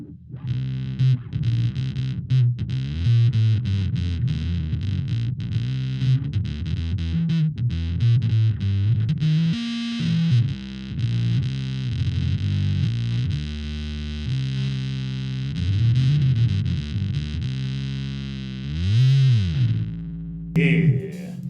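An electric guitar played through a distortion and fuzz pedal: thick, saturated, sustaining notes and chords in a continuous riffing passage, loud and close, with a brief high squeal near the end.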